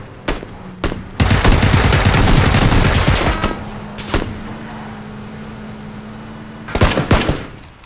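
Gunfire in PUBG on the Miramar desert map: a few single cracks, then a sustained automatic burst lasting about two seconds, scattered later shots, and a final rapid cluster of loud reports.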